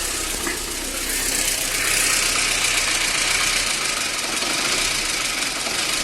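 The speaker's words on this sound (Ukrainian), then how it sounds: "Але ви чуєте, як працює двигун." A VAZ 2110 car engine, not yet fully warm and starting poorly when cold, idles loudly and unevenly, jerking, with a steady rumble and a knocking, uneven rhythm throughout, close up and without talk.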